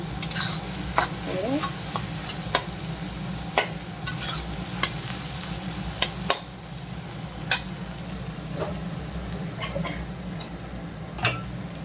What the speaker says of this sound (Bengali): একটু ভাজা ভাজা করি।